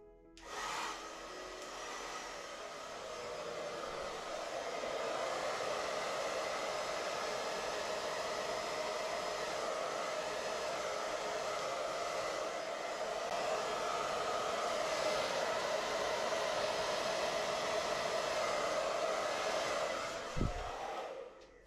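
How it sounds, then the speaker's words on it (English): A hair dryer blows continuously at close range onto wet acrylic pour paint, a steady rushing whoosh for about twenty seconds before a click as it switches off. "I'm just going to blow down on this bit with the hairdryer"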